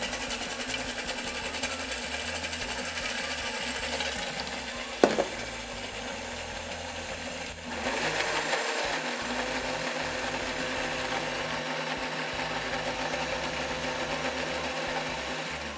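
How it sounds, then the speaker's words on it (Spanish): A blender runs steadily at lowered speed, blending pesto sauce while olive oil is poured in a thin stream, a continuous whirring motor drone with a brief clatter partway through. "Y ahora, sin dejar de licuar, solo le bajé la velocidad, vamos a ponerle el aceite de oliva en forma de hilo."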